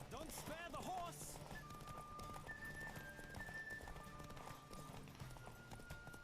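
A horse gallops in The Witcher 3, its rapid hoofbeats blending into dense game ambience and music, with brief speech at the start.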